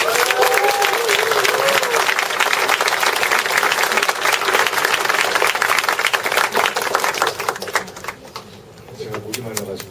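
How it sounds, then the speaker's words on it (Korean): Audience applause fills a lecture hall after a poem is read aloud, a loud, dense wash of clapping that holds steady for about eight seconds, then thins and fades near the end. "여러분 큰 박수."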